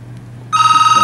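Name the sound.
telephone ringing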